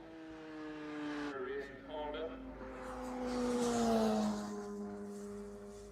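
A Miller Racing Honda motorcycle at a road race passes with a rising, then falling engine whine that peaks at the midpoint as it goes by, heard from the roadside with a commentator talking over it.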